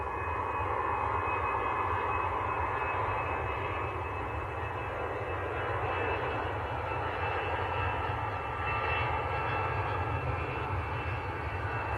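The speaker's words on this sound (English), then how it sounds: "Lufthansa A319, I think that's to Frankfurt, that one." A Lufthansa Airbus A319 at Manchester Airport, likely bound for Frankfurt, gives off a sustained jet engine roar with a bright whining tone, loud and even across the clip, with no one talking.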